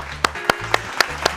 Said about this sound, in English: Scott wins. Round of applause.